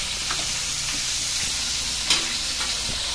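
A whole chicken deep frying in hot oil over a low flame, giving a steady loud sizzle and bubbling hiss with small crackles and one sharper pop, no voices.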